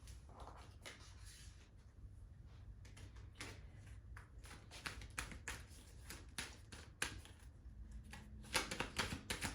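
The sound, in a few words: shuffling oracle card decks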